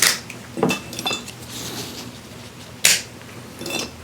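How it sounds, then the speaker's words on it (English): Two cinnamon sticks snapped by hand for homemade bitters: a few sharp, dry cracks and brittle clicks close by, with small knocks in between and no talking. "We want 2 cinnamon sticks. And I just like to break them."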